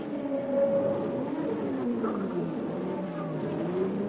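Riccardo Patrese's 1982 Formula One race car pulls into the pits at the Austrian Grand Prix, its engine a steady droning whine that slowly shifts in pitch, heard at a moderate distance with no talk.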